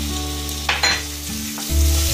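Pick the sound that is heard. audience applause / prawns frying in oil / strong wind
prawns frying in oil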